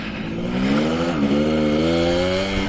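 An old two-stroke motorbike with a new carburetor, a rebuilt engine and pre-mixed fuel runs steadily at close range, a buzzing, humming engine tone that dips briefly and then rises slightly.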